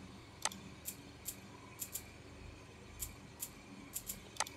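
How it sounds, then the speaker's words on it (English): Shaker samples in an Afrobeat beat tick in a light, crisp rhythmic pattern of short bright hits, fairly faint over a soft background bed. "Then this one, this is shakers"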